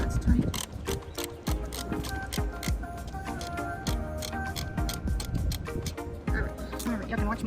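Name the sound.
ratchet tightening a nut on a 2011 Chevy Impala engine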